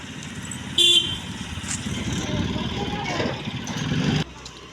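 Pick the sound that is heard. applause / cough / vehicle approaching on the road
vehicle approaching on the road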